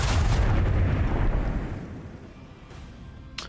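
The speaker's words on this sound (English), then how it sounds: "Use the lances to destroy the torpedoes." Heavy starship lances fire at incoming neutron torpedoes in the Warhammer 40,000: Rogue Trader video game, a loud rumbling boom-laden barrage that slowly fades into a low roar, with a sharp crack near the end.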